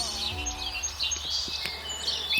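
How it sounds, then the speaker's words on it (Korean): Birds sing and chirp continuously against a busy background, bright tweets layered over one another at moderate loudness with no voices. Wing flaps are not distinct. "자유를 얻은 기쁨을 노래하는 새들의 아름다운 노랫소리가 하늘에 울려 퍼졌어요"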